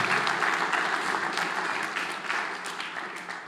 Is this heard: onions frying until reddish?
no